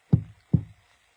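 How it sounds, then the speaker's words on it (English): Two soft, dull taps on glass, about half a second apart, close by and otherwise quiet. "You can tap on the window like this."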